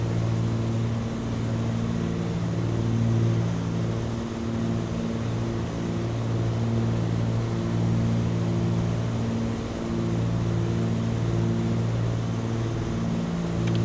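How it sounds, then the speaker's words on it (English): Steady multi-engine drone of an aircraft cruising at 25,000 feet toward Menorca, a loud, even hum with strong low tones and constant cabin noise and no breaks. "With our engines running smoothly, we'll do one final check on the gauges."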